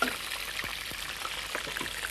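Grated ginger sizzles steadily in hot oil with cumin seeds, a continuous fine crackle with a few soft knocks scattered through it.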